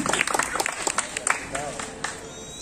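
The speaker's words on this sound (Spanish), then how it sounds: "¡Aplauso para el tío!" Audience applause and clapping at a dance competition, scattered claps under shouting voices amid a lively crowd.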